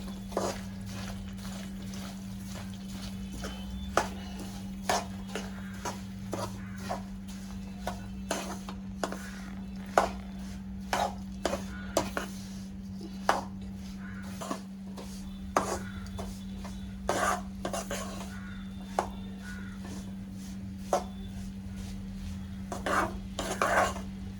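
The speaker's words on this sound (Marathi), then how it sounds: "तीळ शेंगदाणे सगळं टाकून घेऊया एक जीव करून घेऊया" Sesame seeds and peanuts being stirred into hot jaggery syrup for tilgul ladoo, with repeated sharp clinks and scrapes of a spoon against a metal pan at an irregular rhythm over a steady background hum, no talking.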